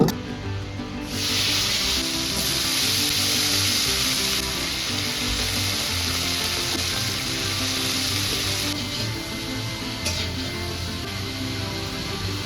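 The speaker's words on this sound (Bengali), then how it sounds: "প্রথমে আলু লবণ দিয়ে ভেজে নেব" Potatoes fry with salt in a hot pan, giving a loud, steady sizzle that goes on without a break, with light stirring and scraping and no talking.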